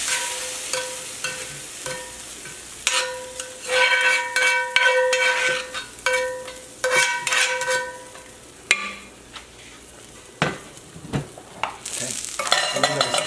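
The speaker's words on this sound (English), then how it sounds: "I'm going to stir this over here and blend this in there" Cabbage and peppers fry in a pan while being stirred, giving a continuous loud sizzle broken by repeated scraping strokes and clinks of the utensil against the pan, close up with no talking.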